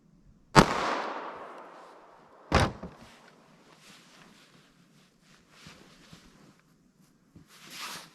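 A 9mm subcompact pistol fires JHP rounds into clear ballistics gel, producing two sharp, loud bangs a couple of seconds apart, each with a ringing decay, followed by faint rustling.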